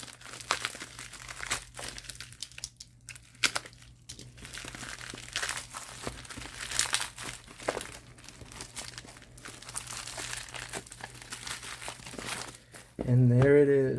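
A mailing package containing an Anbernic RG34XX SP handheld box is opened by hand, with extended crinkling and crunching of plastic wrap and packaging, quick tearing bursts, and sporadic rustles close to the mic.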